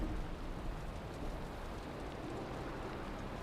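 Steady rain in the Valheim video game, a constant dense wash of falling water with a low rumbling undertone, even and unbroken throughout with no voices.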